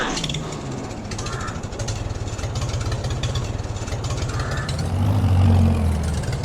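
An old Farmall H tractor idles in a farming video game, its mid-pitched engine chugging in a steady, fast rhythm and swelling louder near the end, with no voices over it.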